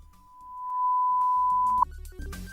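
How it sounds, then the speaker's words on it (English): A steady single-pitched tone in DaVinci Resolve swells up from silence along an exponential fade-in curve, then holds level before being cut off by a brief burst of mixed sounds, with no talking. "There's also what I call the exponential fade."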